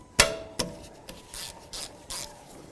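A wrench loosens a 13mm caliper slider bolt on the rear brake of a Dodge Journey, with two sharp ratcheting clicks followed by several softer scraping rasps at close range.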